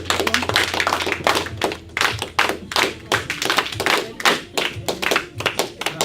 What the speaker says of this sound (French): Applaudissons une fois encore, s'il vous plaît.